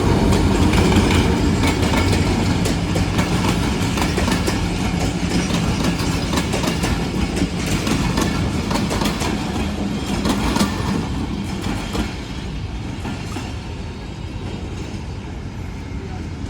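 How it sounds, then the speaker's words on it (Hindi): A KCR commuter train hauled by a GMU30 diesel locomotive rolls into Drigh Road railway station in Karachi, its loud wheel clatter and rumbling cars passing close and steady, fading slightly toward the end with faint voices nearby. "तो एक KCR 2 डाउन आ चुकी है"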